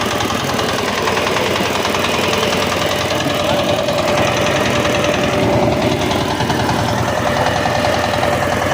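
The engine of a small homemade vehicle runs close by, a steady mid-pitched idle with a fast knocking rattle and vibration throughout.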